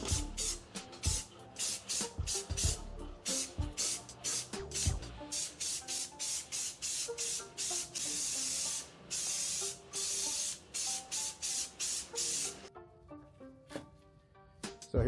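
Repeated bursts of aerosol brake cleaner sprayed from a can onto the rear axle housing of a 1971 Nova, short hissing blasts of varying length in an uneven rhythm, close and loud with no talking.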